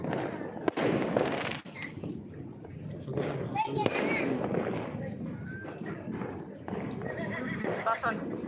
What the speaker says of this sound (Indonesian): gemuruh dari suara petasan dan kembang api.